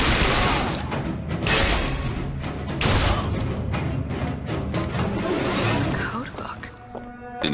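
Gunfire crackles through a Bioshock Infinite firefight in bursts of shots and booms, with game voices talking over the clash.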